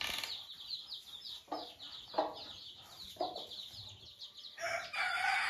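A broody hen hatching chicks in a farmyard clucks repeatedly, with close crowing-like calls, other fowl chatter in the background and a brief burst of wing flapping near the end.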